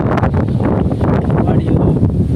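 Wind gusting outdoors on a farm, a loud, continuous rumbling buffet close to the microphone with no pauses.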